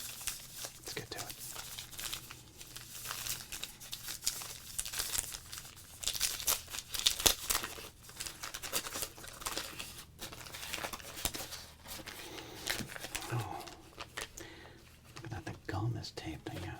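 A taped 1987 Topps wax pack being opened, with steady close crinkling and crackling of the wrapper and paper, sharp tearing and rustling bursts throughout, and a soft whispering voice underneath.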